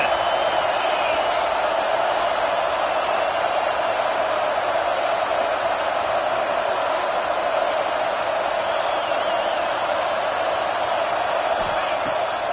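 A steady, loud roar from a college football stadium crowd at a Wisconsin versus Arkansas game fills the whole stretch without letting up, dense and distant rather than close.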